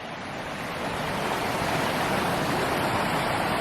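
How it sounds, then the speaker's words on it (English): Waterfall feeding Bowen Run along the West Rim Trail in Pennsylvania's Grand Canyon, a steady broadband rushing roar that swells slightly and stays constant throughout, fairly close with no voices. "you can pretty much see the rest of the waterfall that creates Bowen Run"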